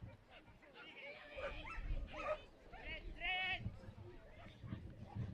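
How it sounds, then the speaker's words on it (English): A young two-year-old female border collie runs an agility course at a competition, letting out a few short barks and yips over crowd noise and steady arena commentary. "she is a 2-year-old border collie"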